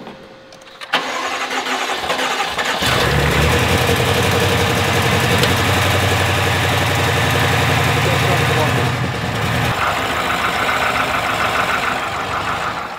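A rebuilt BMW M5 engine, previously suffering rod knock, cranks and catches into a loud, steady running rumble close by before dropping off near the end.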